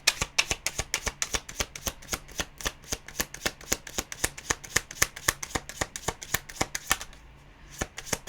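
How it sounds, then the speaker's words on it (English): A deck of oracle cards is shuffled in a steady, rapid riffle of crisp taps for about seven seconds, close and clear with no talk, then stops abruptly into near silence. "let's pull a card from one of the funny decks"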